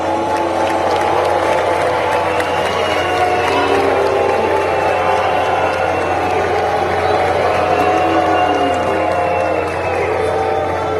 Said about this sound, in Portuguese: ontem ele acabou sendo vaiado pela manhã no terceiro dia da Conferência Climática em Salvador